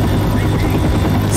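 Helicopter rotor noise in the game Left 4 Dead: a continuous low, throbbing drone held at an even level, with no clear voices over it.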